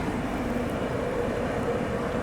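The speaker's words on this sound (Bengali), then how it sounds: "এদিকে একটা ট্রেন যাচ্ছে" Train going by at Contai (Kanthi) station on the Digha to Kolkata line, at night, making a continuous broad, steady rumble with no clear beats.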